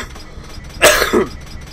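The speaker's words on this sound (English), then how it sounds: "This cough is the worst thing I've had so far." A single harsh human cough, close and loud, bursts out once and fades over a quiet background with no talking.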